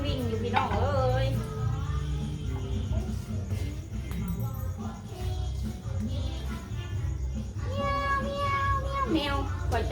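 A black cat meows repeatedly at close range, its cries rising and falling over steady low background noise, while someone talks in Thai between the calls.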